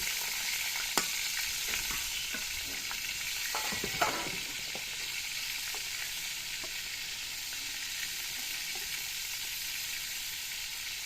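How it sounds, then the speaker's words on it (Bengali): Pieces of pointed gourd (potol) fry in hot oil with a steady soft sizzle, broken by a few clacks and scrapes of stirring, close and moderately quiet, with no talking. "পটলগুলো এখন আমি তেলের মধ্যে দিয়ে দিলাম, লাল করে ভেজে নেব।"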